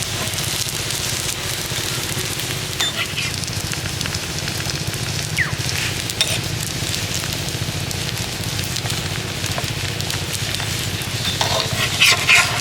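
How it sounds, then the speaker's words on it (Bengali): Semolina paratha fries in hot oil with a loud, steady, close sizzle and crackle that continues without pause, with only a faint scrape near the end. "এইভাবে উল্টে পাল্টে পরোটাটাকে সুন্দর করে ভেজে নিতে হবে।"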